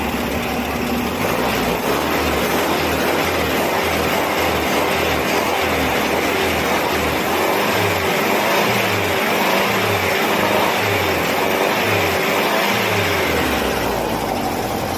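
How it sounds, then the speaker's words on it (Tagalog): A Porsche 356 engine runs steadily and loud on a road test, with a continuous mid-pitched drone that carries through a low, pulsing throb, and no voices over it. "Okay, road test na to mga bossing."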